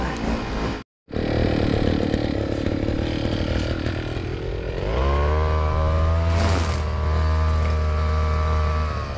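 Grass cutter engine for trimming Bermuda grass runs steadily after a brief cutout and restart, its loud buzzing drone close by and continuous, rising into a higher revving pitch midway.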